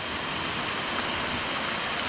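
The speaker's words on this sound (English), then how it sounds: "I wouldn't be able to record anything in this rain with my iPhone" Rain falling along the Buruwisan waterfall trail in Laguna, Philippines, a dense, even wash of drops heard up close with no pauses.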